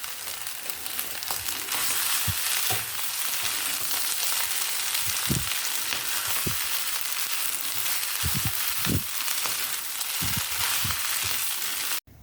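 Mie goreng (Indonesian fried noodles) with fried shallots sizzles steadily in a hot pan while a spatula scrapes and clacks against the metal every second or so as it's stirred.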